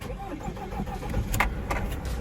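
A diesel car engine is started, giving a quiet mechanical cranking and whirring that settles into a low idle, with a few sharp clicks, all heard from close by.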